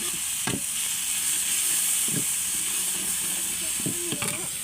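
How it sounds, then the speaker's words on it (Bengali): Onion with ginger and garlic paste sautéing in a pan beside fish cooking: a loud, steady hiss of frying oil fills the whole stretch, with a few brief spoon scrapes and clacks breaking through, close up. "পাশটা আমি একটু আদা রসুন আর পেঁয়াজটা একটু কষাই নিই"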